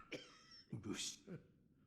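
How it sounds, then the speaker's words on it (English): A character in the video game Sekiro coughs up his lungs, giving three short, rough, quiet coughs in quick succession with pauses between them. "Can't really talk much because he's coughing up his lungs."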